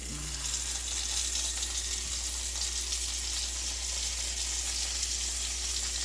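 Cajun pork chops frying in oil in a pan, a steady close sizzle and crackle of hot fat that holds evenly throughout without pause.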